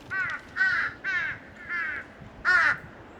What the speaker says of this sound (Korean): 까마귀 몇 감튼 소리가 들렸다.